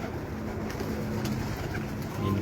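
Pigeons cooing on a rooftop in Islamabad, soft repeated coos over a constant low background hum.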